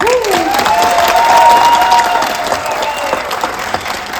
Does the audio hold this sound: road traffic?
no